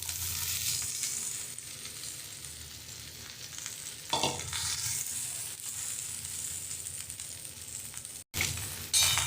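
Okra sautéing in a little oil in a pan gives a steady close sizzle throughout, with a brief stirring scrape midway and a short break before it resumes.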